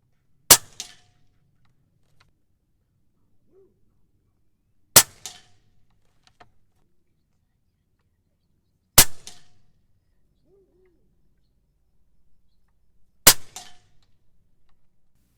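A .25-calibre Umarex Gauntlet 2 air rifle fires pellets at a painted 16-gauge steel target plate; four sharp cracks come evenly spaced several seconds apart, each with a faint short ring after it.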